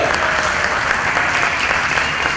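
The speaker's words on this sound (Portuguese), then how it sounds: "uma salva de palmas, por gentileza." A seminar audience gives an orchestra a loud, dense round of applause, continuous clapping close and full for the whole stretch.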